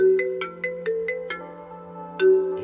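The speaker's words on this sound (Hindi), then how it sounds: "अब इसको क्या हो गया जो इस समय इसने फोन किया?" A mobile phone rings with an incoming call, a bright melodic ringtone of quick repeated chiming notes, loud and close, playing alone.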